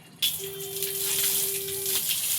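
Running water splashing and rinsing across a floor, a steady broad gush that starts abruptly and continues loud and close throughout, with a faint hum underneath.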